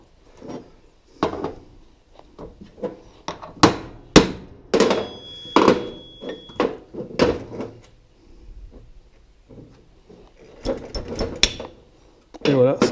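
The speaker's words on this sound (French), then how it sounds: "on donne un coup de marteau de plus." Hammer blows seat a part on a 2004 Polaris Sportsman 700 EFI ATV, a series of sharp, close metallic knocks spaced irregularly between stretches of talking.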